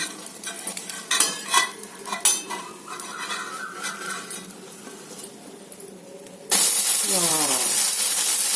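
A breakfast egg dish frying in a pan, with spatula scrapes and clinks against the metal over a soft sizzle, then a sudden loud steady hiss near the end.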